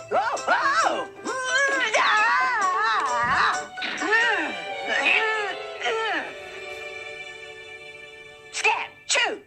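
A cat meows repeatedly in a domestic period-drama scene, drawn-out wailing cries rising and falling one after another, near and loud, with a brief pause before a final pair of meows.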